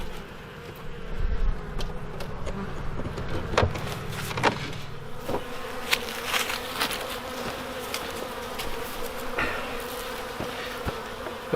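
Honey bees buzz steadily around a second entrance to a hive in winter, a dense continuous drone close to the microphone, with occasional individual bees whizzing past and small clicks, no talk.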